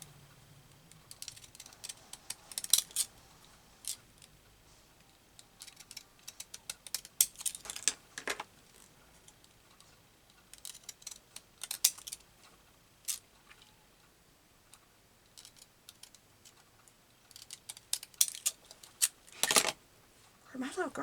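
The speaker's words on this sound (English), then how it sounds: "I got these scissors. I need to cut it down this way" Scissors snip through paper while a vintage-themed collage is being made, sounding as clusters of crisp, close clicks and cuts separated by quiet pauses.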